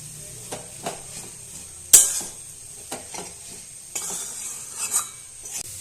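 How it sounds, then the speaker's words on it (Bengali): Soybean momo filling being lightly stirred in a pan, with soft scraping strokes, faint sizzle and a sharp utensil clink against the metal, close by and fairly quiet. "একবার হালকা নাড়াচাড়া করে নিচ্ছি আটা গন্ধটা যাতে চলে যায়"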